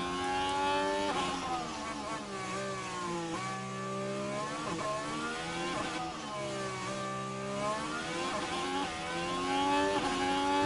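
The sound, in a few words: Ferrari Formula 1 car engine on board, video game F1 Manager 23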